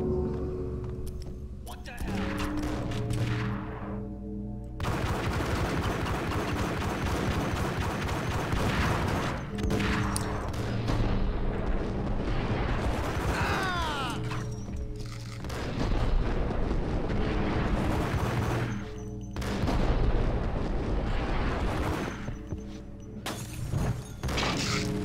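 Gunfire in the PC video game Max Payne: repeated loud shots and bursts with thuds and shattering over continuous game noise for the whole stretch, while a voice talks at times.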